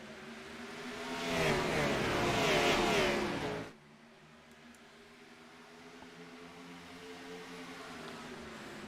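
SVT Gen 6 race cars accelerating at a green flag restart in Texas, a rising engine roar that swells for a few seconds, then cuts to a steadier, quieter engine drone.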